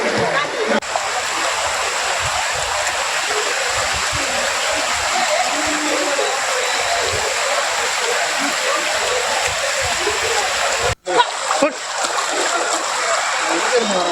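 Floodwater in a village flooded after a pond embankment breached, a continuous loud rushing and splashing wash with brief dips and scattered nearby sounds.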